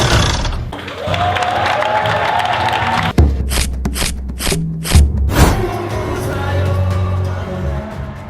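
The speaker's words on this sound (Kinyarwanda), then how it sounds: "reka tumukomere amashyi" Applause and cheering from a crowd greet the performer Ya Mpano on stage. The sound is loud and continuous, broken by sharp bursts of noise, with background sound under it throughout.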